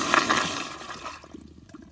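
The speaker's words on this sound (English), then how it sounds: "we're gonna start off by giving y'all a flush" Short flush of a 2021 American Standard Madera toilet: a loud rushing burst of water that quickly drops off into softer trickling and gurgling refill sounds within two seconds.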